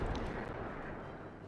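A torpedo strike on a grounded, burning ship in World of Warships gives a dense, booming explosion, loud and broadband, rumbling briefly and fading slightly over about a second and a half.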